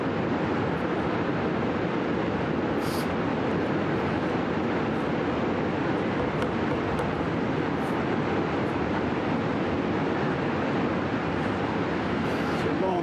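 A city train rumbles past continuously for about thirteen seconds, a broad, steady roar with faint higher squeals and clatter, fairly close and loud.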